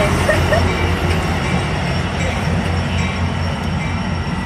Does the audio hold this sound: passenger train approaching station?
yes